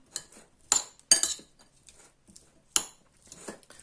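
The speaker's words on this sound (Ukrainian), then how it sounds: "Так, перемішуємо." A metal utensil clinks and scrapes against a bowl or pan while pumpkin dish ingredients are stirred, with several sharp, irregular knocks and softer scraping between them, close up.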